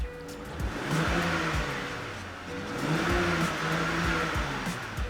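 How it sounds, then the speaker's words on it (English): A car engine revs up and down in repeated swells, rising then easing off, fairly close with a steady low rumble underneath. "You can rev the car up,"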